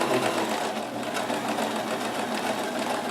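A Kenmore 158.1914 sewing machine runs steadily in reverse stitch with a longer stitch length, its motor whirring and needle chattering close and continuously for the whole stretch, with no talk.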